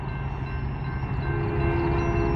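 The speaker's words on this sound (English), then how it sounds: "Oh, I can hear its train horn." A Union Pacific autorack freight train passing a road crossing at night, with a long steady horn blast sounding over the low rumble of the train.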